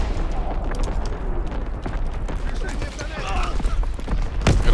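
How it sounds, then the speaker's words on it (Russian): An artillery barrage in the World War II shooter Call of Duty WWII rumbles as dense, continuous battle noise with scattered gunfire, ending in a sharp, loud blast. "Работает основная батарея."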